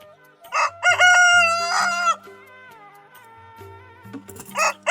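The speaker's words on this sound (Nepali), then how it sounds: "दिउँसो भए पनि भाले बाँच्दो रहेछ" A rooster crows loudly and close by in the daytime near a forest clearing, one long crow followed by the start of another, with quiet gaps between.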